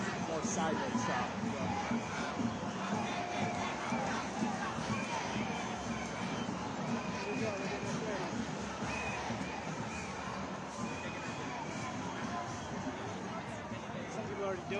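A large outdoor crowd at a nationwide No Kings protest makes a continuous, fairly distant babble of many voices, with people talking nearby over it.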